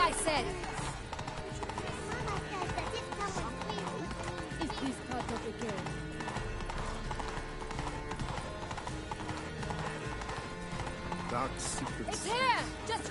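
Horse hooves gallop in a steady clip-clop through Witcher 3: Wild Hunt, mixed into busy game music and ambient effects, with character voices speaking over it throughout.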